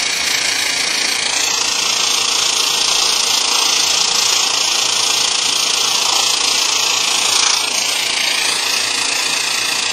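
An SVST portawelder arc-welding with weld rod, a loud, steady, close crackling hiss that runs unbroken throughout, with no voices.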